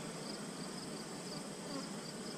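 A honey bee buzzes steadily around a beekeeper's head at an open hive, a constant close whine that fills the short moment without pause.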